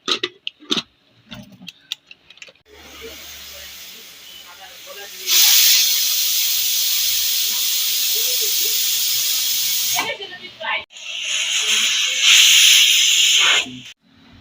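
A pressure cooker boiling jackfruit with salt, turmeric and mustard oil lets out a loud, steady steam hiss for several seconds, stops, then hisses again, after quieter clicks and kitchen handling noises.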